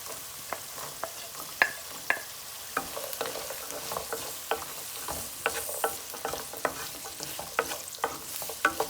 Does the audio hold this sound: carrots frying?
yes